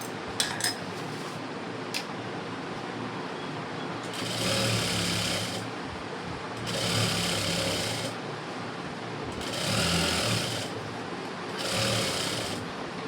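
A sewing machine stitching an embroidered blouse, running in four short bursts of steady, close mechanical whirring separated by quiet gaps, preceded by a few faint clicks, with no voices.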